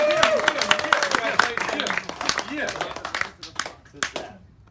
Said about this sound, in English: So give Nikhil a round of applause.